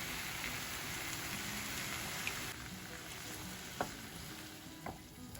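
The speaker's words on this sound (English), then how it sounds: "Next I'm going to add my chopped tomatoes and my passata." Chopped tomatoes and passata, added to red wine for a meat-free lasagne sauce, bubbling and sizzling in a pan, a steady close crackle interrupted by a few spoon knocks and scrapes as it is stirred.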